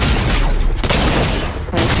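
Pumpkin rocket launcher fire in Fortnite, a dense, loud barrage of blasts and booms that runs nearly continuously, with a brief lull midway before it picks up again.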